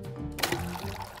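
Lemonade pours into a cup in a cartoon cafeteria, a brief liquid splash and gurgle lasting about a second over a low background hum.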